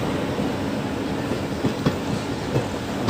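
Indian express passenger train running on rails, a loud, steady rumbling roar with occasional clacking wheel knocks, close by and continuous without talk.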